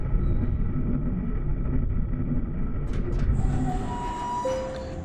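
A tram in the video game Abiotic Factor rolling in on rails, a loud low rumble with metallic clatter, then rising wheel squeals and a sustained high screech near the end as it arrives.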